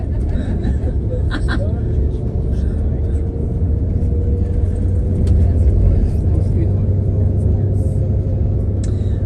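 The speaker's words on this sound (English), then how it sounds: "we're driving on the Erasmus Bridge" A car crossing the Erasmus Bridge in Rotterdam, heard from inside as a steady, loud low road rumble and engine drone with faint scattered rattles.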